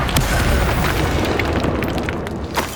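A fiery Incendio spell blast erupts in Hogwarts Legacy, a loud, dense roaring burst that rumbles steadily for a few seconds without pause.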